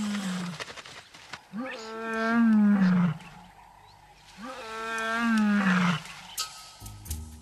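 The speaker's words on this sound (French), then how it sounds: "Ces 3 lions mâles font équipe." Three male lions roaring together in the Okavango Delta, two long deep rolling roars that swell and fade, loud and close, separated by a short pause.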